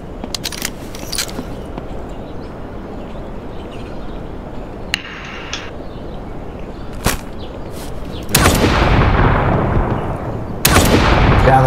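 Shotgun blasts in the zombie survival game HumanitZ, at an airport: a few sharp cracks early, then heavy sustained bursts of fire toward the end, loud and alone without talk.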